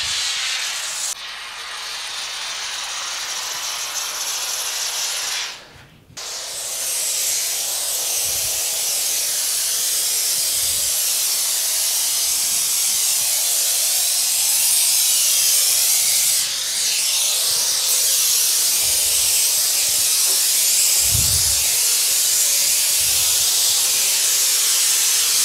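An aerosol can of adhesive foam spraying onto plasterboard as a loud, continuous close hiss that runs for many seconds with one brief break, no talking.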